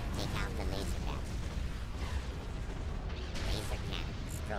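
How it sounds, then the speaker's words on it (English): Laser cannon emplacements explode and fire in the Star Wars Republic at War mod for Forces of Corruption, with bursts, pops and mechanical battle noise layered over a dense low rumble while a voice speaks. "Laser cannon destroyed."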